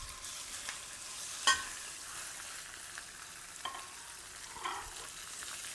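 Pork belly sizzling in smoky hot oil in a wok on high heat, a steady close crackle with a few sharp pops and spits over the continuous hiss.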